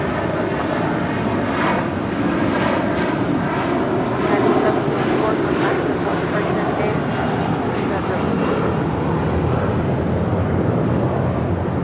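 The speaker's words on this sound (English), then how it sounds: "754 departing to Newark on a 757-200." United Boeing 757-200 departing LAX for Newark, its jet engines a loud, sustained roar with a slight swell midway, heard near while voices talk over it.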